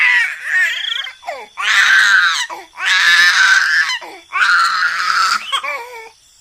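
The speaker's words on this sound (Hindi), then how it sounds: "गुड़िया के रोने की आवाज से" A baby girl wails in long, loud, strained bursts, with brief gasping breaks between cries, close and with no other sounds around her.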